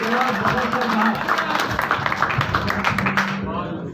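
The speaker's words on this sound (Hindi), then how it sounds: "बहुत तालियों के साथ इनका इस्तेमाल कीजिए" Audience at a mushaira applauding a college principal, dense loud clapping that runs steadily for several seconds and then fades away.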